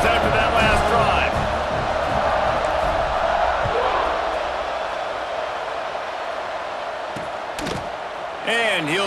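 A stadium crowd in the EA Sports College Football 26 video game, cheering after a touchdown drive with a loud, continuous roar that holds steady throughout.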